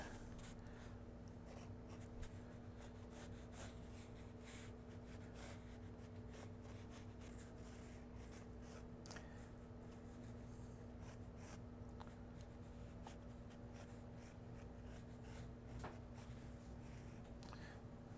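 Pencil sketching cartoon animals very lightly on paper, faint continuous scratchy strokes close to the mic over a low steady hum, with no pauses throughout.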